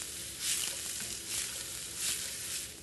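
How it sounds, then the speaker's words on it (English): Fresh sliced garlic sizzles in a hot pan, a soft, steady frying hiss that swells gently in waves, heard alone and fairly quiet. "now we're going to add our fresh sliced garlic, and we're just going to cook that for just a couple of minutes"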